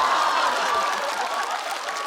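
Dense applause and cheering from a live stand-up comedy audience fills the whole moment, steady and close, with scattered laughter mixed into the clapping.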